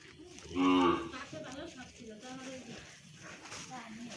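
Cattle on a rural homestead, a cow and calf, give one loud close moo early on, followed by softer lowing while people talk nearby.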